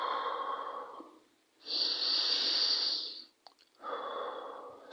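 Slow, steady breathing in and out during a smartwatch-guided breathing exercise, three long airy breaths heard close, with a brief pause and faint rustle between them.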